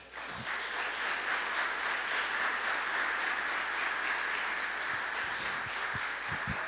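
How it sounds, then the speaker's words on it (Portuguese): A church congregation claps together, a dense, continuous wash of hand claps that holds steady at full strength throughout, with a few lower thumps and no clear talking. "Bate palmas para Jesus."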